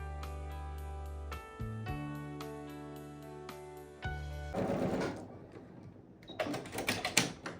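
A sewing machine stitching a fabric headband, its motor humming in a steady rapid rhythmic drone with a brief pause and restart, then stopping and giving way to fabric rustling and handling noises up close.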